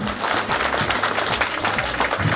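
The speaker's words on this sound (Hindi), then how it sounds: "एक बार फिर से जोरदार तालियां।" Steady applause from an audience at a school annual prize distribution function, dense overlapping claps sustained at an even level throughout.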